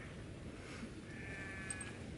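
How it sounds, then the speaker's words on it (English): A sheep bleats once, faint and distant, drawn out over a breezy open-moor background on Dartmoor in winter, with no talking. "That's a sheep."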